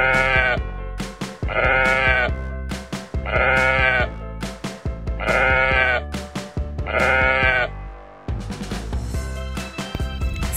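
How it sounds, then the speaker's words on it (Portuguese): Village sheep bleat loudly and repeatedly, one wavering call after another in a steady rhythm at close range, with no talk. "enquanto as ovelhas pastavam tranquilamente"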